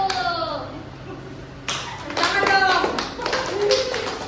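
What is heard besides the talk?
class applauding group 1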